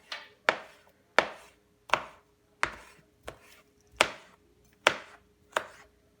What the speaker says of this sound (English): you're going to take your knife and you're going to cut like this.